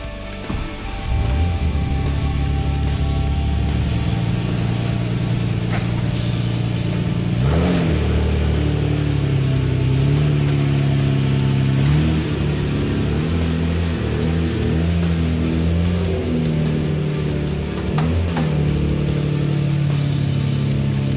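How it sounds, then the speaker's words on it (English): A Nissan RB26DETT engine warms up after new coil packs are fitted, running loud and close with a steady idle, several sharp throttle blips, and revs rising and falling across the whole stretch. "Now let's get the engine warmed up, go take it for a drive, we'll see how it is."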